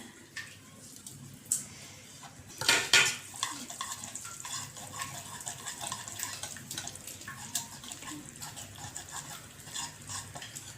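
Yogurt being whisked in a bowl, close scraping and sloshing strokes with a louder clatter early on, then a steady irregular churning that keeps going.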